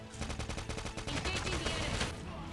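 Rapid sniper and automatic gunfire from COD Mobile battle royale, a dense burst of repeated sharp shots close and loud for about two seconds, then fading into a noisy wash.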